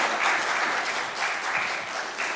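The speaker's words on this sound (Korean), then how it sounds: "나오실 때 큰 박수로 우리 환영을 해주셨으면 좋겠습니다" A church congregation claps loudly to welcome a speaker at an afternoon mission service, a dense, steady round of applause with slight swells and no voices over it.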